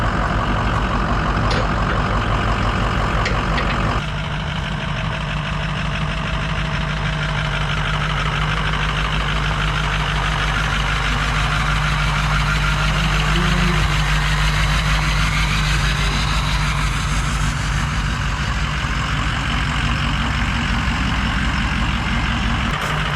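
A 2006 Ford F250 with a 6.0 diesel engine, idling loud and steady nearby with a deep rumble that shifts slightly as the truck moves, continuous throughout.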